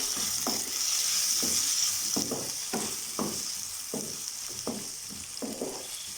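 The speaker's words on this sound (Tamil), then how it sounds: "தக்காளி சேர்த்து நல்லா மிக்ஸ் பண்ணி நல்லா மூடி வச்சிடலாம்." Okra masala with tomatoes fries in a pan, a continuous sizzle and hiss cut by a regular series of stirring scrapes of a spoon against the pan, near and steady without speech.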